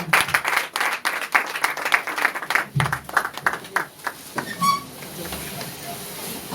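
A church congregation claps and applauds in a burst of dense rhythmic clapping that thins out over a few seconds, with voices mixed in.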